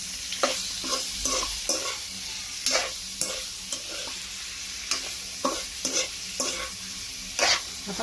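Buttered garlic shrimp stirred in a hot pan, a constant sizzle with repeated scraping strokes and clinks of the utensil in an uneven rhythm, close and clear with no talking.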